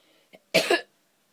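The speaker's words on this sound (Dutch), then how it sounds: "ik hoest de hele tijd" A person with a cold and blocked nose gives a single harsh cough, near and loud, preceded by a faint short throat sound, with silence around it.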